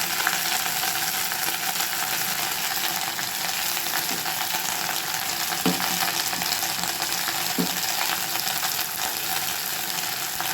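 Drumstick leaves frying in oil in a pan over low heat: a steady, dense sizzle and crackle throughout, with a couple of faint stirring knocks, no voices.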